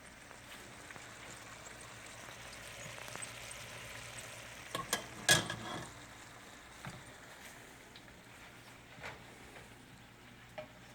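Beef sizzles and fries in a pan for Filipino bistek tagalog, a steady soft crackle with a few louder stirring scrapes and clatters, no voices.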